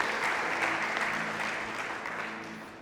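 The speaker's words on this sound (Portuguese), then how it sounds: "Então vamos aplaudir o Senhor." A church congregation applauding the Lord during a sermon: dense, sustained clapping from many hands, loud and full at first, then slowly fading.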